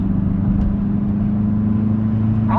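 Steady car engine drone from inside a moving vehicle, a low constant hum with road rumble, loud and close, no talking.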